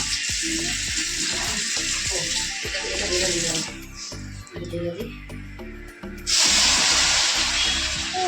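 Water poured into a pot of Bengali fish curry, a steady hissing splash heard close up, with people talking and kitchen clatter throughout.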